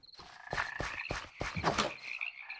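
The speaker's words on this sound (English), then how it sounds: "Frog, I heard you." Frog in the Minecraft video game croaks in a quick rhythmic series of about six short, clear croaks, close and fairly quiet, with no talk.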